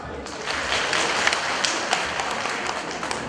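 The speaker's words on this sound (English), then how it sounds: "please join me in saluting everyone with round of applause" A round of applause at the closing ceremony of an English-language training program comes as a dense burst of clapping from a gathered audience, rising quickly and staying busy with scattered louder claps.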